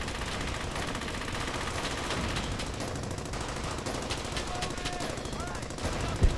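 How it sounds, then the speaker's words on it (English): Machine gun fire in the World War II shooter Brothers In Arms: Hell's Highway, a loud continuous rattle of automatic bursts filling the whole stretch amid battle noise, with a voice talking over it. "Look at all those fucking machine guns"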